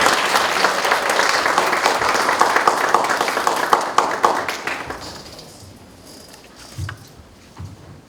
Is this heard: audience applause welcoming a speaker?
yes